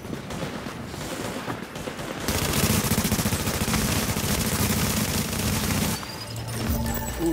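Loud, sustained automatic gunfire in the video game Tom Clancy's The Division: rapid rattling bursts begin after a quieter stretch, keep going for several seconds, then drop back to lower battle noise.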